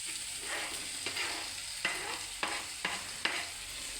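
Boiled, mashed potatoes for a potato palya stir-fry are turned in a pan over a soft, steady sizzle, with several sharp spatula scrapes and taps near the end.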